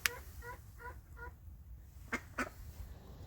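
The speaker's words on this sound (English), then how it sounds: "Roundy's giving her their happy chirps." Pet ducks give a few soft, quick chirping calls in short clusters, followed by two sharper calls close by, over a low background rumble.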